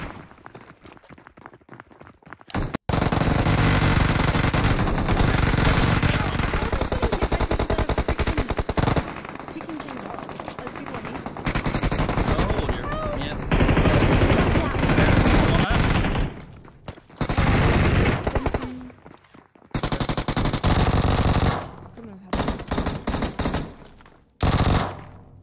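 Sustained Uzi fire in a multiplayer shooter game, long loud automatic bursts broken by short pauses across the clip, with footsteps and players talking in between.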